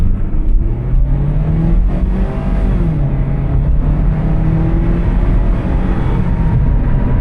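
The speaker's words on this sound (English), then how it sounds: "Alright, heavy throttle pressure, shift points all seem good." A car accelerates hard under heavy throttle, the engine note climbing loud and close with audible gear shifts as the pitch drops and rises again, steady throughout.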